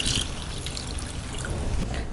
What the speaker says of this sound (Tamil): தண்ணி ஊற்றி மிக்ஸ் பண்ணிக்கலாம்.